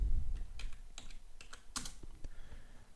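Fingers type on a computer keyboard in a quick, irregular run of close, crisp key clicks with short pauses between bursts, and no voices.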